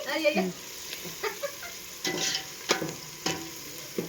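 Tempering spices crackling and sizzling in hot oil in a cooking pan, with loud uneven spoon strokes scraping and knocking through a continuous sizzle, close up and without talk.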